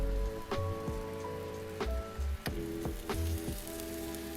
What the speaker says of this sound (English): Now I'm also going to add some of my frozen peas.